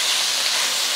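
Food stirred and frying in hot oil in a wok for a Cantonese meal gives a steady, loud, close sizzle with no one talking.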